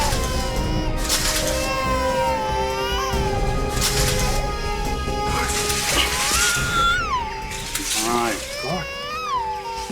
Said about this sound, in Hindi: उस तरफ से बच्चे के रोने की आवाज आ रही है।